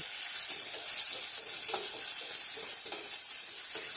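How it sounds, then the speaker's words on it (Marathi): Sliced onion sautéing in a pressure cooker for khichdi, a steady close hiss of sizzling with faint scraping stirs now and then, no voices. "साधारण एक वाटी भरून कांद्याचे काप कुकरमध्ये टाकायचे आहे आणि परतून घ्यायचे आहे"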